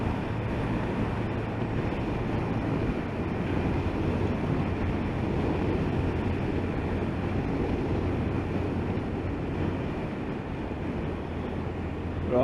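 A CF Moto 300SR motorcycle cruises in sixth gear at a steady road speed, its engine a constant droning hum with a low tone beneath broad wind rush that stays level throughout, with no voices.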